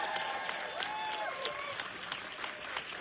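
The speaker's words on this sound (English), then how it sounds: "So we'll give it a big round of applause to Guillermo." An audience applauds Guillermo del Toro with a round of clapping that stays fairly soft and even throughout, a few brighter tones and faint voices threaded through it.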